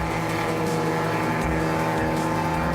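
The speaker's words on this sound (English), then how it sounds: "Behind the pair is Rob Gearing in his BMW 2000 and Terence Boytes in his Austin Cooper Mini." Historic racing cars, an Alfa Romeo Giulia TI, a BMW 2000 and an Austin Cooper Mini, pass on a circuit in a loud, steady engine roar that holds throughout with no talk.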